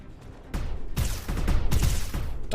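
Rapid gunfire from the video game Rogue Invader, starting with a quiet lead-in and then breaking into loud repeated shots and bursts that keep going to the end.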